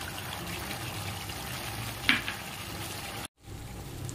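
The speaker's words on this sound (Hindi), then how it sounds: "अब हम इस पे ये प्याज का पेस्ट डालकर भून लेंगे।" Onion paste fries in a pan during mutton curry preparation, giving a steady, soft sizzle with no voices. A brief clatter comes near the middle, then the sound cuts out for a moment before the sizzling resumes.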